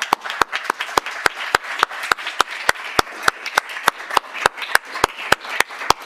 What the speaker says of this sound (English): I'd love to give a round of applause for Whitfield.